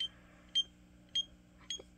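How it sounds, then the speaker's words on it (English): Short beeps from a DSC Impassa alarm keypad buzzer, three to four brief tones spaced roughly half a second apart, clear over a quiet room hum with no talk. "we can do the buzzer control, which makes the buzzer louder or quieter"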